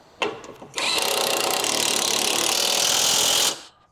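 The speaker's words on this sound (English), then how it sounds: "use your 17mm socket to secure the second mounting bolt" A 17mm socket drives a front lower control arm mounting bolt on a 2006-2011 Honda Civic: a brief clank, then a close, steady whirring buzz for about three seconds before stopping, with no voices.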